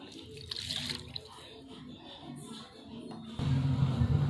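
Water pours into a container while mixing a diluted buttermilk (themor karaisal) garden solution, a steady splashing stream that grows louder and fuller toward the end, close by with no talking.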